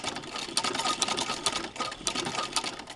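A Singer 15-88 sewing machine with a zigzagger attachment runs a straight stitch on narrow ribbon, a steady rapid whirring and clatter at close range, even and unbroken for the whole stretch.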